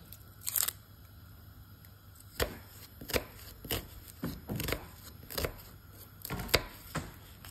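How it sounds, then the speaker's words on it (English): Sharp, irregular knife chops strike a cutting board as vegetables are cut into thin slices for a stir fry, a dozen or so crisp cuts at an uneven pace, close and fairly quiet between strokes. "we're going to cut it into thin slices"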